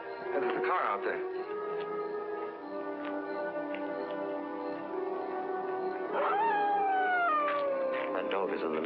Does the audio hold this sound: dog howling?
yes